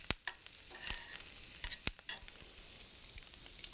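Turkey strips frying in a mesquite-scented pan, a low steady sizzle broken by several sharp clicks and scrapes as they are turned with tongs, close by, no voices.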